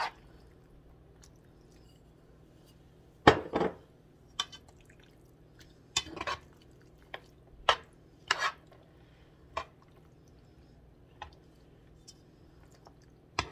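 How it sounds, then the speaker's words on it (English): Pasta being stirred together with meat sauce, with sparse clinks of a utensil against a dish and soft wet squishes spread across a quiet background. "you can mix your pasta so it can get a lot of the meat and sauce inside"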